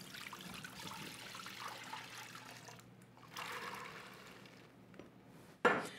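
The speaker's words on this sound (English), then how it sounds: "I'm going to take my soaked beans and I'm going to combine it with the water." Water trickles and splashes into a pot of soaked beans, a faint, uneven pour that swells midway and ends with a brief clink near the close.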